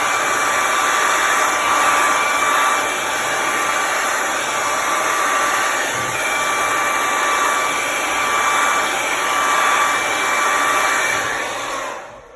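A dryer blows air across poured white and blue acrylic paint, a loud steady whooshing whine that holds constant for about twelve seconds before tapering off at the end.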